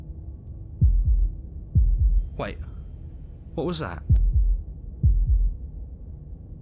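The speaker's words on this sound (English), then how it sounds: "That was the sound of a heartbeat," In the video game Slay the Princess, a heartbeat throbs as slow, deep double thumps repeating about once a second, with a voice speaking briefly over the beats.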